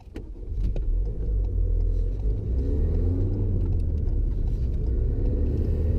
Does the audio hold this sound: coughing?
no